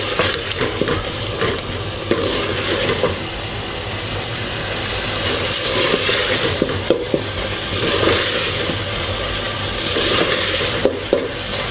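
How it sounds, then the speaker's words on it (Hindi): Minced meat qeema with peas and spices fries steadily in oil, a dense continuous sizzle with scraping stirs and faint metallic clinks, growing slightly louder toward the end. "अच्छी तरह भूनेंगे, इसमें ऑयल आ जाएगा ऊपर"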